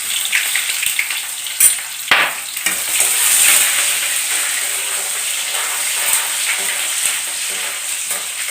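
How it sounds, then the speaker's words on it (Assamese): Chopped onions and a pinch of panch phoron hit hot oil in a pan, giving a steady, close sizzle with stirring scrapes and a few sharp crackles near the start. "পাঁচফোৰণ দুটামান মই দি লৈছোঁ আৰু এই কাটা পিঁয়াজখিনি লাহেকৈ দি দিছোঁ"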